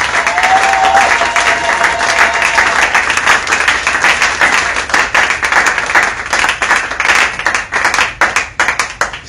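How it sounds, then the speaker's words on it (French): A church congregation applauding loudly for the Lord, dense sustained clapping from a large crowd that fills the space, steady and close throughout with a brief voice near the start. "Alors acclamez très fort pour le Seigneur."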